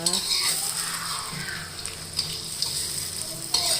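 A Thai omelette with basil leaves frying in a pan to puff up crisp and golden, a loud constant sizzle and crackle up close with a few light clinks of a utensil.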